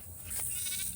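A show goat gives a single short, close bleat at feeding time, a wavering cry over faint background noise, with no talking.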